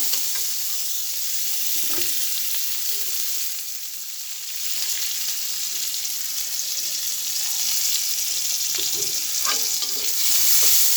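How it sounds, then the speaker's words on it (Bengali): Green chillies and onions sizzle steadily in hot oil in a frying pan, with a constant bright hiss and occasional scrapes and knocks of a spatula as they are stirred. "এখন আমি দিয়ে দেবো কাঁচামরিচ পেঁয়াজ দিয়ে একটু নাড়াচাড়া করে নেব"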